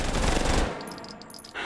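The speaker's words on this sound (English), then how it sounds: "But we got a Glock 18. I don't know why I'm shooting at the wall, but let's switch over to full auto." A Glock 18 pistol on full auto in the VR game Hot Dogs, Horseshoes & Hand Grenades rips off a loud, fast burst for over half a second, then cuts out into ringing tail and faint mechanical clicks.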